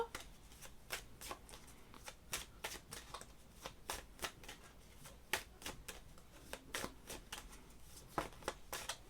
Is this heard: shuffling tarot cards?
yes